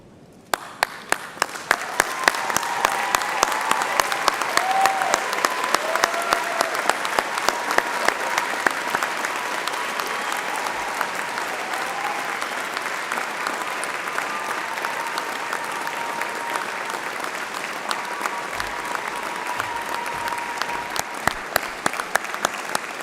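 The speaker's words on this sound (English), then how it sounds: "join me in giving them a well-deserved round of applause" Standing graduates at an arts, design and media graduation ceremony applaud their families and friends, a long, steady roar of many hands clapping in a large hall, with a few sharper nearby claps standing out.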